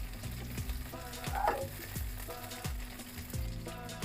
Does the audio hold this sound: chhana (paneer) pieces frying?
yes